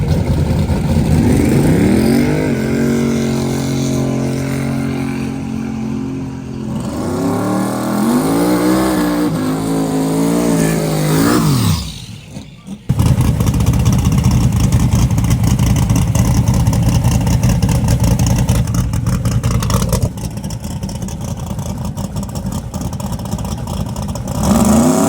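Race cars accelerate hard in a small-tire prepped drag race against a BMW, roaring loudly and continuously with rising revs and gear changes, then a sudden cut and a harsh, steady engine roar.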